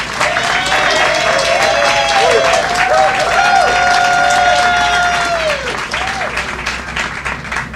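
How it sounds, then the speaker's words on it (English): An outdoor crowd at a groundbreaking ceremony for a town square at the Suitland Federal Center applauds a councilwoman, sustained dense clapping with scattered cheers and voices mixed in, holding strong before thinning near the end. "I think she deserves a round of applause"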